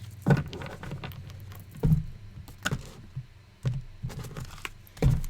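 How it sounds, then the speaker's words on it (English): Tarot cards shuffled by hand in a series of short, soft riffling bursts with quiet pauses between them, close and alone with no talking. "I feel like I shuffle the cards differently every single time"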